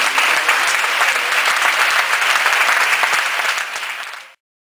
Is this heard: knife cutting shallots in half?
no